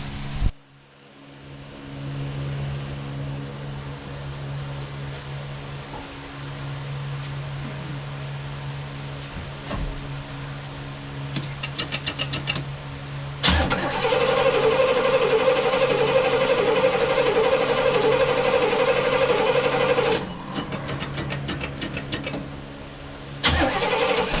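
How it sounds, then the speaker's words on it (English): A car engine with a ticking fault in its cam and lifters cranks, catches and settles into a steady close idle, with a rapid light ticking running through the running engine. "So let's find out where this ticking noise is. I'm going to start the engine and then we'll go from there."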